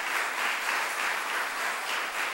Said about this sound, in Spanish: por la cual pido un fuerte aplauso